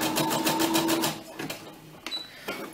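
An SE-400 embroidery sewing machine stitching a design on thin fabric, a steady rapid mechanical chatter for about a second, then quieter uneven whirring and clicks as the stitching slows.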